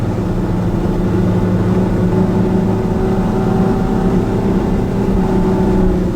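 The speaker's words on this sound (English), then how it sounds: "You don't need to accelerate too fast. Get the boat up onto the plane." A loud, steady motorboat engine roars continuously with rushing water beneath it as the boat gets up onto the plane, holding a high, even drone throughout.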